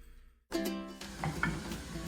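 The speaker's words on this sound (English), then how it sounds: "Onion, celery and garlic, we'll let it cook for 3 to 4 minutes" Chopped onion, celery and garlic hit a hot pan and start sautéing, a sudden close sizzle that springs up after a brief quiet and keeps crackling steadily with small spits and pops.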